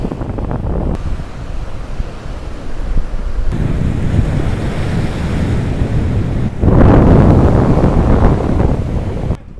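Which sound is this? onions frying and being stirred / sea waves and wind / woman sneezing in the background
sea waves and wind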